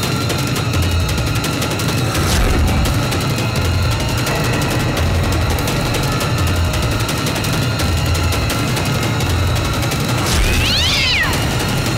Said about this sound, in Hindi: बिल्ली थी।